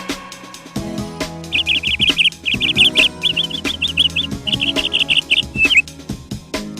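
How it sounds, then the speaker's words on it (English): A parrot calls in a string of quick, bright chirping bursts over a busy backdrop of plucked and percussive music, close and fairly loud, with no one speaking. "P for parrot."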